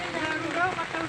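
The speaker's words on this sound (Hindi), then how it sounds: "भाई बारिश आ गई।" Light rain begins falling outdoors at a market where people shelter under a tarpaulin, a soft broadband patter close by throughout, with voices talking over it.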